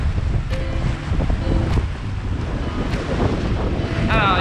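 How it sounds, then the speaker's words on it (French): Strong wind of about 22 knots at sea buffets the microphone in a steady roar, with water rushing past a sailboat and a faint voice briefly in the background. "Il y a 22 nœuds de vent."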